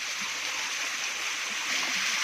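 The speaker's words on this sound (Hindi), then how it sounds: "आपको हल्की हल्की जलतरंग बजती हुई महसूस हो रही होगी आबशार के पानी की।" Water from a small waterfall beside a road among pine-covered hills, a steady soft hiss of flowing water with no talking.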